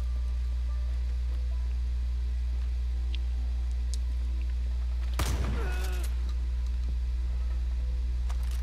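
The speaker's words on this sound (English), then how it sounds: "I decided to shoot him. Just because I got a shotgun." A single shotgun blast in Far Cry 5, a sharp loud burst with a brief crackling tail standing alone against a steady low hum and otherwise quiet game ambience.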